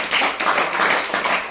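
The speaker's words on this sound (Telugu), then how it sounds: "కొట్టని చప్పట్లు గట్టిగా." An audience at a Telugu church sermon clapping loudly, a dense, rhythmic burst of many hands beating together in steady pulses, close and forceful with no talk over it.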